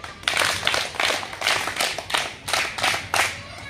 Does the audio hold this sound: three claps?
yes